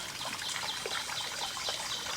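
Water trickles and dribbles down into a flooded old mine pit beside a trench, a faint, steady, close wash of small splashes with no voices.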